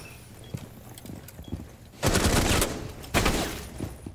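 Two loud bursts of rapid automatic gunfire in the Rainbow Six Siege video game during a college esports match, following quieter scattered shots and clicks.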